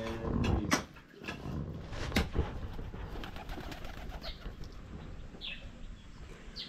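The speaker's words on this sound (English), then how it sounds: "the pigeon nowadays, they are coming, every one of them are coming over here" Pigeons cooing near a charity house under construction in Africa, soft repeated coos over a busy background of scattered knocks and work noise, with a few short higher calls late on.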